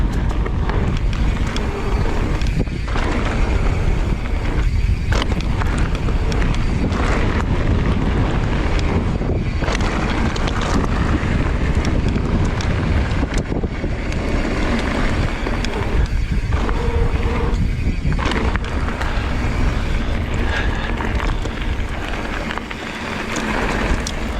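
Gusty wind on an outdoor riding trail, roaring into the microphone as a loud, constant broadband rush that swells and buffets throughout, with no voices.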